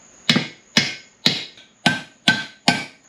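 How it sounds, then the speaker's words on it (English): Six sharp metallic hammer strikes on a chisel, banging out a lower control arm bushing on a 2004 Subaru WRX, ring out at a steady, unhurried rhythm, each blow followed by a short decaying ring. "Got a hammer, got a chisel, so I'm gonna see if I can just bang this out"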